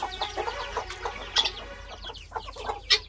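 Chickens, including guinea fowl, cluck on a farm in a run of short, scattered calls at moderate distance, with a few sharper squawks and no talking.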